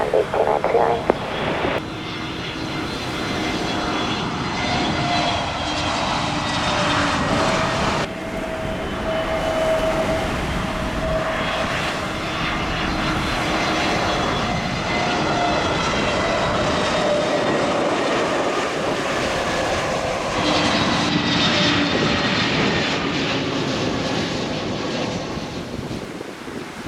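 An aircraft lands on runway 27 at Gibraltar Airport with a loud, sustained engine roar and a whining tone that persists throughout, heard fairly close. Radio chatter sits faintly under the noise.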